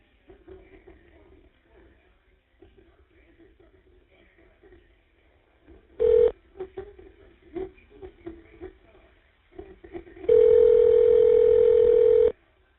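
A telephone number is dialed on a prison call, with a short tone burst, clicks and handset noise, then a long steady tone under a line hum.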